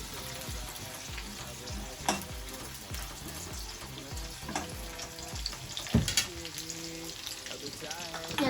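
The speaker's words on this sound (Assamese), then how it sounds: "এতিয়া আমি পিঁয়াজখিনি ভাজি আছোঁ।" Chopped onions fry in hot oil in a pan for chow mein, giving a steady close sizzle with intermittent spatula scrapes and stirring clatters.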